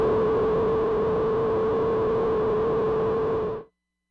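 Chained FM synth oscillators give off a steady, dense complex noise with a strong sustained tonal hum inside it. It holds loud and even for about three and a half seconds, then cuts off abruptly.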